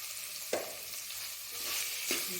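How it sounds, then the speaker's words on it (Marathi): One bowl of boiled potatoes fries in a pan with salt for a fasting-day meal, giving a steady soft sizzle broken by two brief spoon-stirring scrapes. "1 वाटी बटाटा थोडंसं फ्राय करून घेते"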